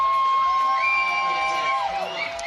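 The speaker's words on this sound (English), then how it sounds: "People are cheering quite a lot." A crowd cheers and whoops at a bouldering competition, a steady loud roar with some high shrill voices rising over it throughout.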